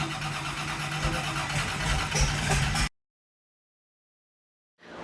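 A 525 big block Chevy engine swapped into a Mustang fires up and idles with a loud, steady rumble for about three seconds, then the sound cuts out to silence before returning briefly.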